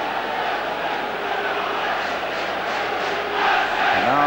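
Around 18,000 fans fill the stadium for the Crystal Palace v Liverpool League Cup semi-final second leg, a dense roar of chanting and cheering that swells louder near the end.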